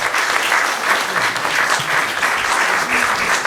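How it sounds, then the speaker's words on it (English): An audience at the opening plenary of an annual convening applauds warmly, with sustained, even clapping from many hands throughout and no speech over it. "let's give her a round of applause"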